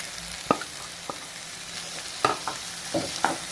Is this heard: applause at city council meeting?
no